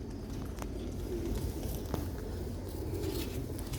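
Pigeons coo softly at close range, low rolling calls repeating over steady background noise, with a few faint taps and flutters.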